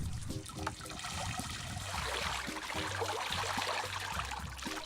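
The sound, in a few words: liquid draining through a drainage channel grating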